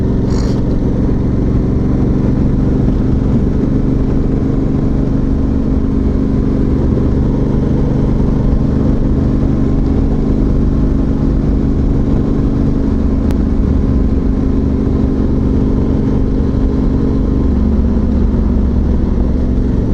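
Steady, loud engine drone heard from close by after a torque setting is raised for more throttle response, holding a continuous low rumble for the whole stretch with only slight shifts in pitch and no talking.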